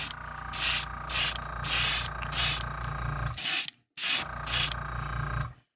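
Pearl paint sprayed from an airbrush onto a white-based wiggle-wart crankbait fishing lure, heard as a close, loud run of hissing bursts over a steady hum, with one short pause before spraying resumes.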